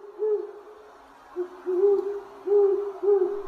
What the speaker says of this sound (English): owls